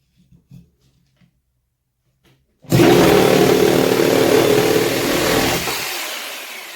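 A Bosch PST 1000 PEL 650-watt jigsaw starts after near silence and cuts at its top speed setting, a loud, sustained buzzing roar lasting about four seconds before easing slightly toward the end.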